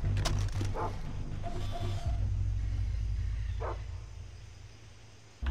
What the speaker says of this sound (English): I can hear a dog somewhere